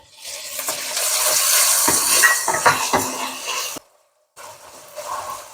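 Vegetarian prawn drops into hot garlic oil in a pan and sizzles loudly, with stirring scrapes and clatter, then a brief silence before quieter frying resumes.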